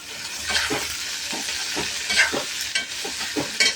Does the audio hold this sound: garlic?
yes